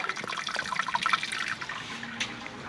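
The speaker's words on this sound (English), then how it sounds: "Gently putting water into the kettle." Water pours and splashes into a metal brewing kettle, a steady close stream with some bubbling, moderately loud, with no one speaking.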